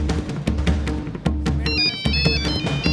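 A phone ringtone plays a bright electronic melody over rhythmic beats, looping loudly and close, with no talking.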